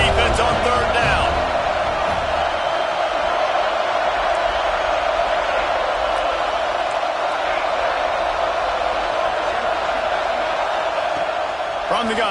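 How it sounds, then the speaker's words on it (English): Steady roar of a stadium crowd in a college football video game, Texas A&M at Florida State, swelling on a third-down defensive stand, continuous and dense with scattered shouts, under ongoing commentary. "Decibels rising as the crowd gets behind this defense on 3rd down."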